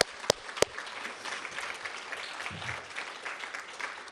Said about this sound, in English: I want you to all start by giving yourselves a round of applause for hanging in there